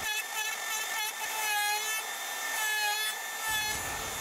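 Makita DRT50 cordless router with a straight cutter plunges into wood, giving a continuous high-pitched whine with a wavering pitch as it loads and eases, close and loud with no talk.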